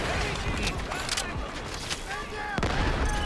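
Gunfire in the shooter video game Delta Force, a quick string of shots and bursts with a voice talking over the top throughout.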